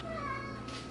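A house cat meows in a kitchen where homemade bagels are being baked, one drawn-out, rising-and-falling meow heard close and fairly soft over a quiet room hum.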